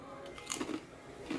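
Faint, quiet crunching bites of sharp white cheddar crackers, with a few brief crisp crackles close by in a quiet room.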